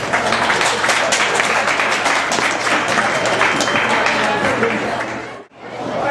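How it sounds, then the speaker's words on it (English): A live audience at an indoor event at Reading Liederkranz claps in a dense, steady wash of applause, close and loud throughout, breaking off sharply just before the end and then resuming briefly. "Let's have a round of applause for a gentleman who traveled here from Washington, D.C."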